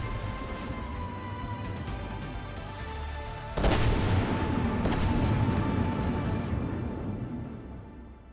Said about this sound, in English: Oh, Spire's above him and shooting.